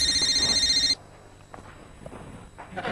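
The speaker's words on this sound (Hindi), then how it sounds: "ओह मेरा फोन बज रहा है," A mobile phone rings loudly with a bright electronic tone for about a second, then cuts off, leaving quiet room sound and a few soft footsteps.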